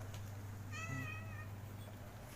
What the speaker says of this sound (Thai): อาจจะมีเสียงแมวนิดหน่อยครับ